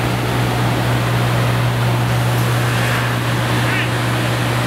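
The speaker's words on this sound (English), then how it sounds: "They just turned on the water right now to put out the fire." Water hoses spraying onto a fire at a Miami color-party event, a loud steady rushing hiss filling the scene continuously, with a low hum underneath and crowd noise around it.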